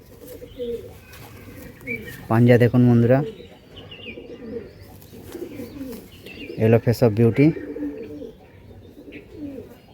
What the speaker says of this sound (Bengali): এই ছাড়লাম পায়রা